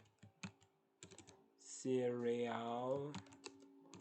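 Keyboard typing in an Excel spreadsheet, scattered light clicks spread across the stretch, with a voice talking in the middle.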